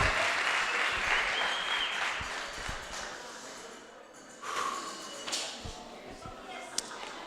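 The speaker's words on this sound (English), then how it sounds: "so round of applause for you guys" Wedding guests applaud during the toasts, a moderate burst of clapping that fades after a few seconds, followed by scattered claps and room noise with a voice briefly audible.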